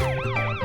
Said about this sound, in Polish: Więcej syren?